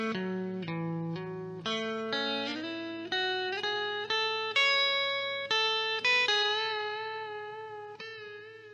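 An electric guitar with distortion plays a riff: a descending run of single notes, each picked sharply and sustained, stepping in an even rhythm, clear and alone with no talking.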